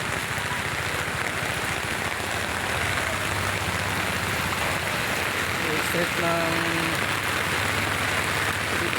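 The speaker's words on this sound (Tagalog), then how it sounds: "tuloy-tuloy na malakas ang ulan, ang lakas" Steady, heavy rain pours down throughout during flooding in Sampaloc, Manila, a dense wash of noise, with a person speaking briefly over it.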